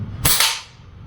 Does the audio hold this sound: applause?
no